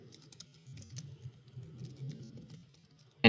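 C# code being typed on a computer keyboard makes soft, irregular keystroke clicks in quick bursts at low volume, ending with one sharper, louder tap.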